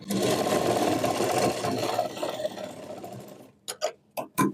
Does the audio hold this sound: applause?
no